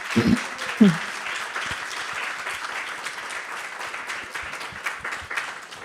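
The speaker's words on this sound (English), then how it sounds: "So first I wanted to give a big round of applause." A gathered congregation at a devotional class claps in a steady, dense wash of applause that continues evenly, with a brief voice near the start.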